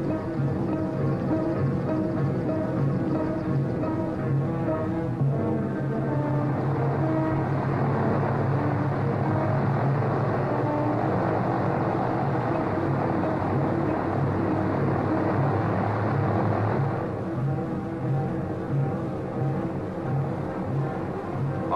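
Engines of a large Pan Am Clipper airliner rumble steadily and loudly throughout, a dense continuous roar that swells slightly midway as the big plane starts to move out toward the runway.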